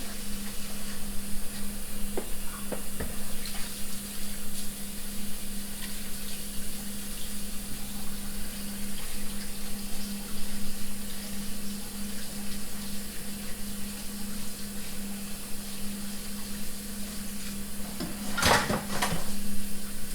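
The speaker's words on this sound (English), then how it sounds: "let's wash my hands. Give them a good clean." Water from a kitchen tap runs steadily while hands are washed under it, with a constant hiss, a few soft clinks and a brief louder splash near the end, no voices.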